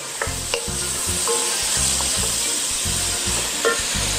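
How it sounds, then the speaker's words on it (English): Tomatoes and ginger hit a pan of carrots and oxtail in a steady crackling sizzle, with rhythmic low scraping strokes of a spoon stirring throughout. "And I'm adding some tomatoes. And I have 2 pieces of ginger."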